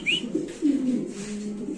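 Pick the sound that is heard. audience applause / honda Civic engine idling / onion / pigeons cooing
pigeons cooing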